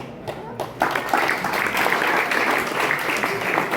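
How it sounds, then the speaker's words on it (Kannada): Loud, dense applause from an audience at a felicitation ceremony at a soldier training centre in Mudalagi, building after a brief pause and sustained steadily to the end. "ನಾವು ಜೋರಾದ ಚಪ್ಪಾಳೆಯ ಮುಖಾಂತರ"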